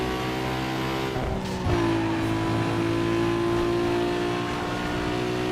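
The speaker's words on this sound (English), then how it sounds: "Oh, these engine noises." A car engine revs in Need for Speed Underground 2, a steady buzzing drone that dips briefly, then climbs back to a held, higher-pitched rev.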